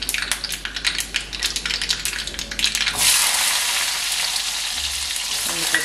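Peeled garlic cloves tossed into hot oil in a pan, scattered crackles and stirring clatter, then a loud, dense sizzle that bursts up and holds steady close by.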